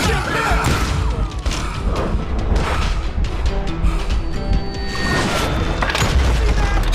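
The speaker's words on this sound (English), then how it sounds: "That scatter gun was like a double-barreled howitzer." Booming shotgun blasts from a double-barreled scatter gun in the Western shooter Call of Juarez Gunslinger, loud and dense throughout, layered with gunfire, thuds and crashing game effects.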